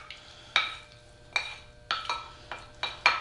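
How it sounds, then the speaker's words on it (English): Spatula or spoon scraping and clacking against a pan while shrimp fried rice with eggs and vegetables is stirred together, six sharp strikes at an irregular rhythm over a quiet background, no talk. "now we want to just combine all the ingredients together"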